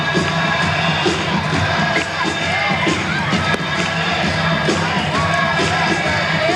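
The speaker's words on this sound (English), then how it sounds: "As the crowd fires it up here from Atlantic City" A ballpark crowd at a 1999 Atlantic City Surf versus Somerset Patriots minor-league baseball game cheers and yells steadily throughout, a dense, continuous roar with scattered shouts from many voices.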